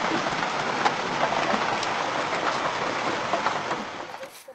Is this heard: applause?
no